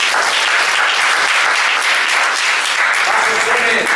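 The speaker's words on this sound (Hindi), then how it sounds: "जोर से तालियां।" Loud applause from a church congregation at a Sunday morning meeting in India, a dense, close, unbroken roar of clapping filling the whole few seconds at high volume.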